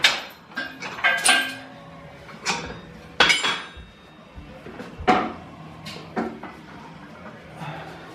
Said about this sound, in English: So then what I'll do for leg extension is I'll just loosen this clamp.